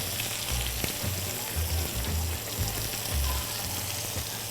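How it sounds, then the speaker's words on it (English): Carrots sizzling and frying in a hot pot for vegetable lo mein, a continuous crackling hiss with stirring and low thumps of the pot underneath. "Put my carrots in the pot."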